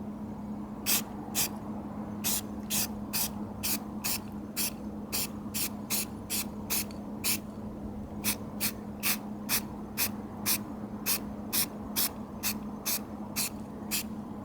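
Short bursts of spray paint hiss onto the grill of a 1997 Ford F-150 truck, about two dozen quick, evenly spaced sprays over a low steady background hum, close by with no talking.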